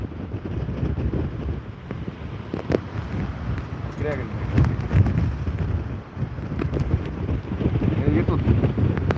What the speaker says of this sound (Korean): 생각보다 바람은 많이 안 부는 아닌가? 아, 많이 부는구나 밖에는 밖에는 많이 부네요